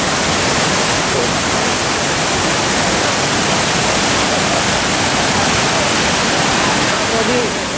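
A waterfall roars loud and continuous near Bukit Sadap in Indonesia, a dense broadband rush of falling water with no pauses that fills the whole scene.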